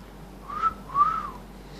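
A person whistles two short, rising-and-falling tones in a row, fairly quiet and clear against a faint, steady room hush, to set off a phone finder app on an Android phone.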